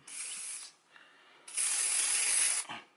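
Cleaner is sprayed onto a handgun slide in two hissing bursts, a short one and then a longer one, close and clear.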